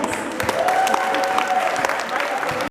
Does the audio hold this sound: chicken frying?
no